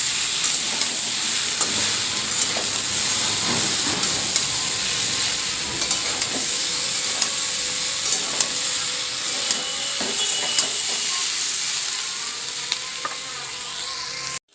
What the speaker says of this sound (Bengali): পেঁয়াজ কুচি দিয়ে খুব ভালোভাবে ভেজে নেব আরও।